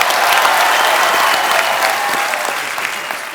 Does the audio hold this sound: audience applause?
yes